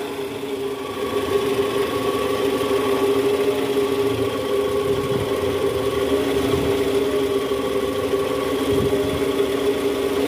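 A Toyota 2AZ four-cylinder engine in an Alphard runs at a steady idle with a continuous mid-range hum, and faint irregular knocks from the crankcase area tap through the drone.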